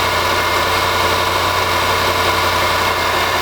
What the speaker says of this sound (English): Waiting on it to come down to an idle here.